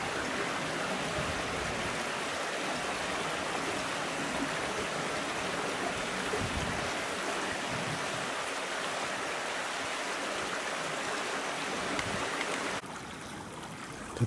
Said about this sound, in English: And up ahead here, more little waterfalls.